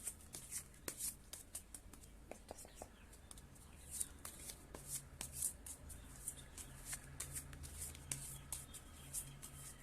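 Tarot cards being shuffled by hand: soft, close riffling and rustling with repeated crisp flicks and taps at an uneven rhythm, quiet and intimate throughout.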